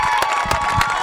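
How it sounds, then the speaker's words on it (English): A high school football crowd cheers at halftime, a loud, continuous roar of voices with bursts of shouting. "As you can hear the crowd, everybody's pumped up, proud of the boys right there."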